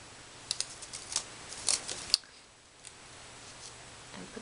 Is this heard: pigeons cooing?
no